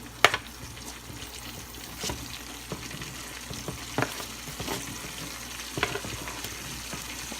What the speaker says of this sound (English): I'm going to go ahead and put some of these onions in.